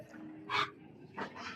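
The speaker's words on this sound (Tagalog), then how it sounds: "mga English Bulldog naman to" English Bulldogs in a kennel room give two short barks, one at about half a second and another near the end, fairly close and moderately loud over a low steady background hum.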